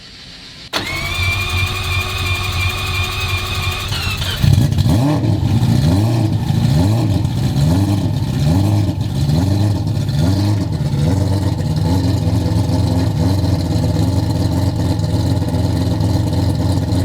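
An AWD car with a four-rotor rotary engine on a dynamometer, starting with a sharp catch, then idling loudly before repeated rhythmic throttle blips rise and fall in a steady pulsing pattern, close and dominant throughout.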